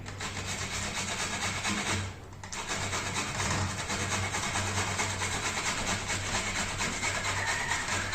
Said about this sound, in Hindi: मैं सिर्फ मूलियां रगड़नियां